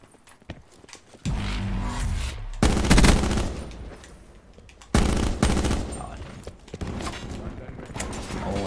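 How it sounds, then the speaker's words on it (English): Rapid burst fire from the Swordfish tactical rifle in a Call of Duty hardpoint match: loud clustered volleys around the two-, three- and five-second marks, dense and sharp, with game noise and quieter stretches between. "I hear the swordfishes. I think it's a really good gun."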